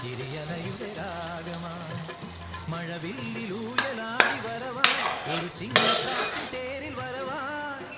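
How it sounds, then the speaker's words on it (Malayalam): A spoon stirs kaalan curry with ground coconut paste in a pan for an Onam dish, giving a few sharp metallic scrapes and clinks over a steady bubbling simmer, close and moderate with no talk. "ഇനി ഇതിലേക്ക് ഈ തേങ്ങ അരച്ച അരപ്പ് ഒഴിച്ച് ഇതൊന്ന് ഇളക്കി വീണ്ടും ഇതൊന്ന് കുറുക്കിയെടുക്കണം"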